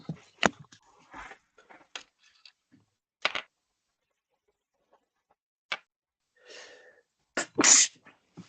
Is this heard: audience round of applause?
no